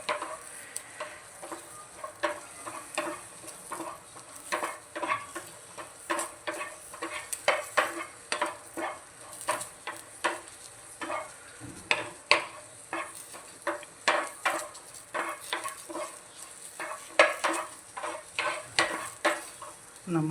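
Garlic and chilli fry over low heat in a pan for cauliflower chutney, with a soft steady sizzle and repeated clinks and scrapes of a spoon stirring throughout.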